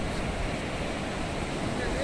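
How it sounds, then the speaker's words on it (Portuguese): Ocean waves wash along the shoreline on a beach walk, a steady close roar of surf mixed with wind noise on the microphone, with no pauses. "Nós caminhando pelo mar, vendo essa beleza natural"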